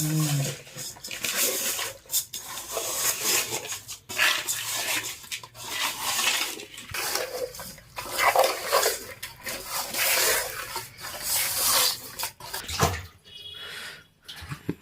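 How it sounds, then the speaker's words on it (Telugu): Raw fish being rinsed by hand in water after a yogurt wash, for a traditional tamarind fish curry: continuous close splashing and sloshing with clinks against a vessel, steady throughout and no talking. "మొత్తం ఇలా ఫిషెస్ని కడుగుని సైడ్ పెట్టేసుకోవాలి"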